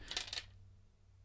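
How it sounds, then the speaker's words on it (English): Dice roll onto a tabletop at a Warhammer 40k gaming session, giving a quick burst of three or four bright clattering clicks that stop within half a second and leave near silence. "So you know now when you roll your dice."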